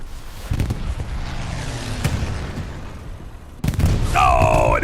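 Stuka dive-bomber air strike in the World War II shooter Hell Let Loose on Omaha Beach, with heavy booming explosions and bursts rolling under a commentator's voice, then a loud sustained roar with a rising whine near the end.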